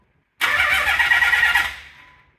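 Twin-turbo swapped Nissan 300ZX engine fires up for the first time in neutral, catching abruptly and holding a loud steady idle for over a second before tapering off, with no talk over it.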